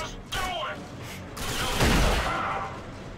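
Gunfire in the shooter game RAGE: loud, overlapping shots and blasts crowding together into a dense, roaring barrage with no clear pauses between them.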